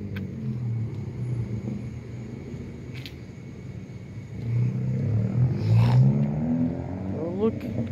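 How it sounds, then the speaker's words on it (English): A car pulls out on a quiet street at night, its engine rumbling low and steady, then swelling louder and nearer as it accelerates away, with a person talking softly nearby. "Oh, look, the car's pulling out."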